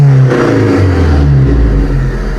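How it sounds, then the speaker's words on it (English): A Nissan SR20DET engine swapped into a 1988 Nissan Hardbody truck revs up loudly and close, a mid-pitched engine roar climbing and settling with no load. "right now I can rev it up for you, and nothing will happen"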